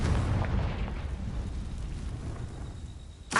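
Confringo spell explosion in a Hogwarts video game, a broad rumbling boom that swells at the start and slowly decays over a few seconds, closing with a sharp burst near the end.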